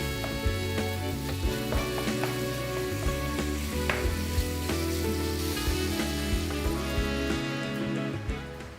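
Food sizzles and crackles steadily in hot oil, with continuous spattering pops and occasional clinks of stirring, close and fairly loud.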